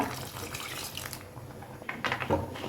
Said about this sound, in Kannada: ಸ್ವಲ್ಪ ನೀರನ್ನು ಹಾಕ್ತಿದ್ದೇನೆ